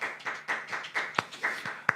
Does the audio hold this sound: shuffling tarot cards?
no